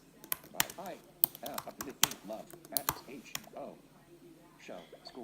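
Typing on a MacBook Pro keyboard in the Pages app: quick irregular key clicks, close and crisp, mixed with a synthesized screen-reader voice speaking over them.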